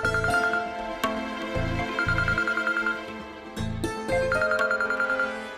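A melodic phone ringtone plays a repeating electronic tune over a steady beat, looping several times with no voices.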